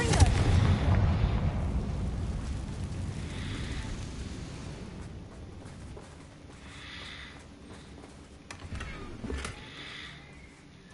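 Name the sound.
Confringo fire spell explosions in Hogwarts Legacy video game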